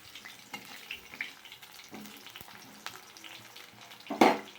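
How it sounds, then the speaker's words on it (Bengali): Cauliflower florets fry in hot oil with a soft continuous sizzle and light scraping, then a louder burst of spattering near the end. "এই তেলে কপিটাকে ভেজে নিচ্ছি।"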